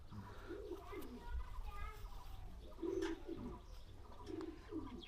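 Indian Madrasi high-flying pigeons, a male among them, give repeated soft, low coos in a steady rhythm, close by, while people talk over them.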